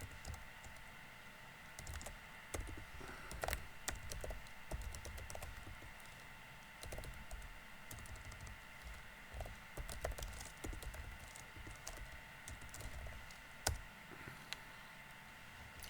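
A git clone command being typed on a computer keyboard during a Linux or BSD install: soft, irregular key taps over a constant low hum, faint and fairly close, with no talking.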